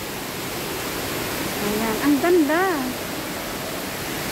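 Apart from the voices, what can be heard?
flowing water in Hong Kong Park aquarium water feature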